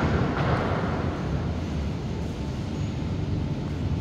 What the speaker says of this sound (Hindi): और एयर का साउंड भी आप सुन पा रहे होंगे